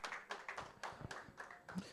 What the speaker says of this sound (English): can we have a round of applause here?